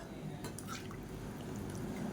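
Hot water trickles and drips into a simmering vegetable curry, a soft, steady liquid splash with a few brief drips, close and fairly quiet, with no talking.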